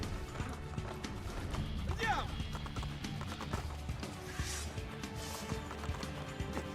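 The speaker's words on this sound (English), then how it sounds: "I don't even need the horse." Horse hooves clip-clopping in Assassin's Creed 2 gameplay, a steady galloping rhythm at moderate distance mixed with game music, ambient noise and a brief whinny, with talk-like voices in the game audio over it.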